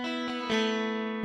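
A clean single-coil electric guitar recorded direct with a little reverb, bright and jangly, plays a few picked notes that ring out sustained and close, with no talking.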